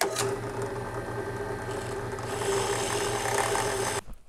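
A small drill bores out the rivet on a Hot Wheels Tail Dragger toy car, a steady close whirring buzz with a pulsing rattle that cuts off abruptly near the end.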